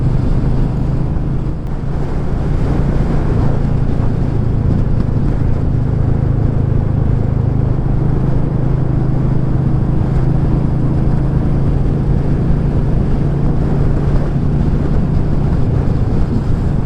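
Continuous engine and road rumble from a Royal Enfield Meteor 350 motorcycle on a gentle ride, heavy wind buffeting over a steady low drone with no talking.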